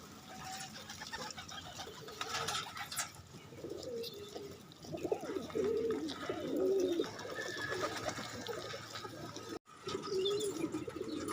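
Pet pigeons cooing repeatedly in soft, rolling calls, fairly close, with quiet background noise and a brief dropout near the end.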